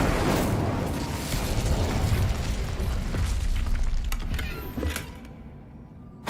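Incendio fire spell in Hogwarts Legacy bursting into a loud, roaring blast with crackling debris that rumbles steadily for several seconds before fading, ending with a sharp pop.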